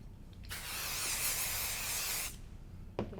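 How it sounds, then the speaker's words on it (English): A steady hiss of an aerosol can spraying onto quilt layers for about two seconds, close and fairly loud, with a brief click afterward. "Use a little bit of spray."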